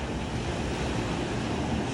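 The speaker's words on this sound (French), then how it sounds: "Mais là-bas au fond, vous entendez les vagues, voilà." Pacific Ocean waves in Tahiti, a steady broadband wash of surf rolling in from a distance, mixed with wind rumble against the microphone and no voices.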